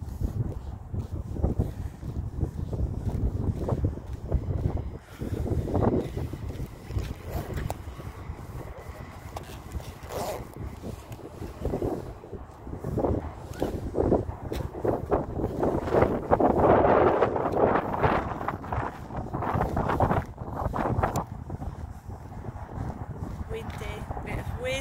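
Wind buffets the microphone throughout an afternoon walk outdoors, a steady rumbling roar with gusty swells, while a person talks over it intermittently.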